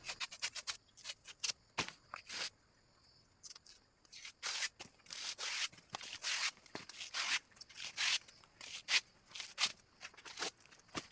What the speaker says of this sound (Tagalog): ipitin lang itong bani ng abaka at hilahin at sugatan din konti para matanggal itong kanyang parang bituka